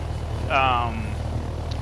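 A helicopter in the DayZ Expansion video game hovers near stationary for landing, giving a steady, pulsing low engine and rotor drone throughout, with a brief higher tonal sweep over it partway through.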